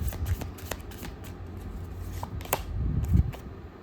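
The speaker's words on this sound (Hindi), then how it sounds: "2 कार्ड गिरे, बट मैं दोबारा शफल करूँगी।" Tarot cards shuffled by hand in quick, soft riffling bursts with a few sharper flicks, close and fairly quiet, with no voice over them.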